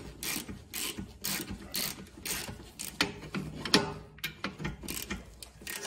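Ratchet wrench tightening rear brake caliper bolts on a Lexus RX350, with a 17 mm wrench holding the pin: a quick run of close mechanical clicks and metallic ratcheting for several seconds, with a brief clank near the middle and no talking.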